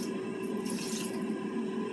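Water runs from a tap or pours into a container while dough for air fryer calzones is prepared, a soft continuous trickle with a brief brighter splash in the middle, heard alone without talk.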